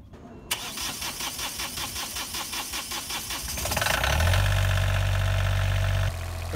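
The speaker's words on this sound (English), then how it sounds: "start the engine and listen to it a little bit" A small boat engine cranks with rhythmic pulses after a fuel filter change, then catches and settles into a steady, loud running drone close by.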